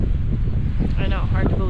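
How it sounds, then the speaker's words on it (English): Heavy wind buffets the microphone with a loud, constant roar, and a voice talks briefly underneath the gusts. "It was pretty much unbearably windy at this point"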